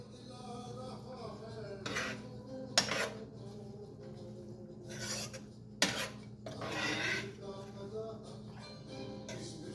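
A metal spoon scrapes and rasps against a cooking pot while radish bhaji is stirred, several short separate scrapes at irregular intervals, close and fairly quiet over a low background hum.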